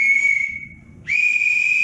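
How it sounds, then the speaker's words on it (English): A sharp, shrill whistle blast that fades, then a second loud steady blast after a short dip. "When I blow this whistle, you're supposed to stop."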